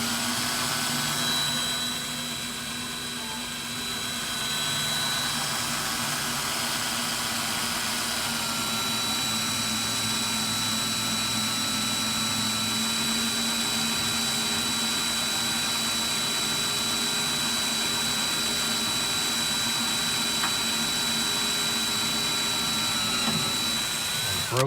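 A cordless drill bores through steel in one long, unbroken grinding whine that holds steady at a loud level for the whole stretch, with no voices.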